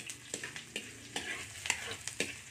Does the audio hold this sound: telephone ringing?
no